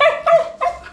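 A dog barks three quick, sharp times at a rural family home where pigs are kept, loud and close with no other sounds around it.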